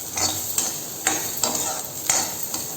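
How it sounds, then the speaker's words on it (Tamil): Ten to twenty small onions fry in a pan for a chow chow masala kulambu, oil sizzling steadily while a spoon scrapes and stirs in regular strokes, loud and close, with no talking. "சின்ன வெங்காயம் ஒரு 10-20 வெங்காயம் சேர்த்துருக்குறேங்க. சேர்த்து கொஞ்சம் நல்லா வதங்கி வறுத்துங்க"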